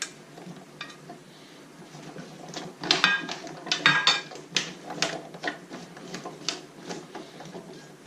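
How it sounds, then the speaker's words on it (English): A spoon scrapes and knocks against a pot while stirring chunks of butternut squash for a tagine, giving irregular clinks and clatters that peak in the middle, with no one talking. "Give them a stir"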